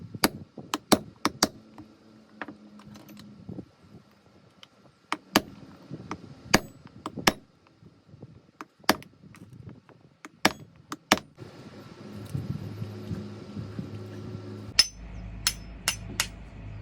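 Sharp metal hammer taps driving a locking pin out of an engine cover latch, about a dozen irregular strikes in small bursts, with quiet clinks and a low rumble building near the end.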